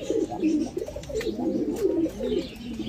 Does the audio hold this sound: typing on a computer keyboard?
no